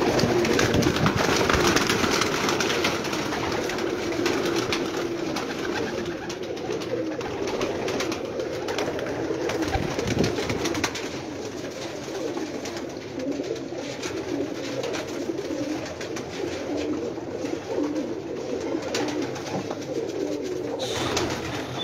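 Pigeons coo steadily from a rooftop loft over a constant low background hum, their soft calls continuing throughout.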